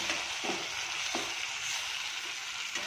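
Turmeric powder being stirred into a pan of cooked-down tomato masala, a steady soft sizzle with a few faint scraping stirs rising through it, no voices.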